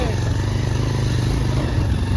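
A motorcycle rides along a rough, bumpy road, its engine droning steadily and loudly at close range for a couple of seconds, with a voice partly heard over the noise.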